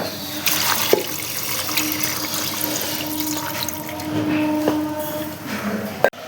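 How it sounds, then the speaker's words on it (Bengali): A small amount of water poured from a tap into a cooking pot while making ghugni with mutton fat, a steady trickle with a few light clinks of metal, near and fairly clear. "অল্প জল দিয়ে দিচ্ছি।"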